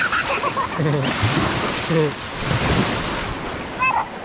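Ocean surf washes and breaks continuously on a beach where children are surfing, with wind buffeting the microphone and excited voices calling and laughing over the waves.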